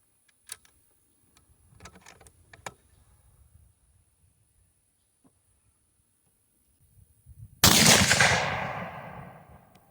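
An 8mm Mauser rifle firing cast bullets lets off a single loud, close shot near the end, booming and then decaying over a couple of seconds. It is preceded by a few faint clicks and handling sounds in quiet surroundings.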